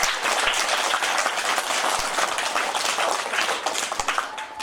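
Sustained audience applause from a gathered village crowd honouring a Padma Shri–awarded film director, dense and steady clapping throughout with no speech over it.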